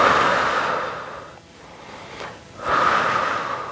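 Deep, forceful breaths in and out during a Pilates exercise: a long loud exhale, a softer inhale, then another strong hissing exhale, close and alone without talk.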